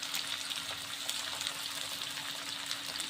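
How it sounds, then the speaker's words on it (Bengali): Potatoes and onions fry in a pan with tomatoes, giving a steady, close, dense sizzle with faint crackles throughout. "এবার আলু আর পেঁয়াজকে খুব ভালো করে ভেজে নিতে হবে।"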